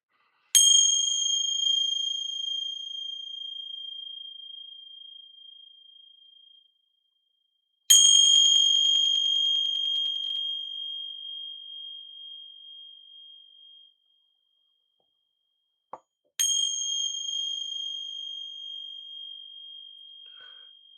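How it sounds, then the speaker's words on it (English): Three clear strikes of a ringing bell, spaced several seconds apart, each a bright metallic ding that decays slowly over several seconds, close and loud with nothing else heard. "Gonna ring some bells here."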